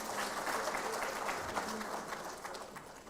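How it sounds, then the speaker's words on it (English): A live audience at a 2024 examination results announcement breaks into a sustained round of applause, dense and steady clapping filling the hall before tapering slightly at the end. "Let's give her another round of applause."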